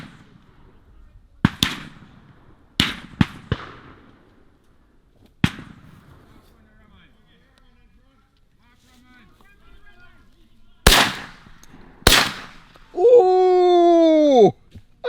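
Gunshots ring out during bird hunting in Jamaica, several sharp loud cracks spaced irregularly across the scene, with a few fainter distant reports between them; people talk and call out nearby, and a brief high whistling tone follows at the end.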